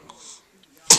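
A baby gives a single sharp, close sneeze at the very end, after a moment of quiet murmuring and soft breathy sounds.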